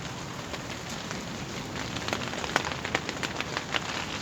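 Steady heavy rain patters on a surface in woodland at night during Storm Eunice, a dense hiss with scattered louder drips, continuous and fairly close, with no voices.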